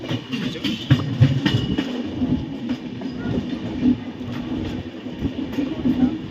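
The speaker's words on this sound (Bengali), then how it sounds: "এই লাইনটায় উঠছে ট্রেনটা দেখো" A train rumbles steadily along the tracks with a low, continuous roar and faint rhythmic clatter of wheels over rail joints.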